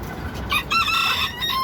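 Banty bantam chickens squabble up close, giving a couple of sharp, strained squawking calls with clucks between them.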